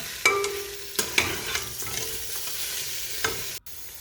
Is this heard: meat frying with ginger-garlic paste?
yes